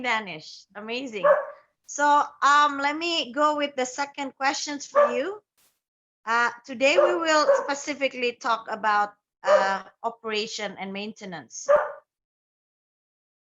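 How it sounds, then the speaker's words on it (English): A dog barks now and then in the background of a room while a person talks continuously over it; the barks stay fainter than the voice. "Excuse my dog."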